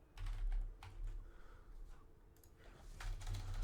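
Rapid keyboard typing during a SMITE game session, a steady run of light clicks and key taps up close over a low game-sound hum, with no talk.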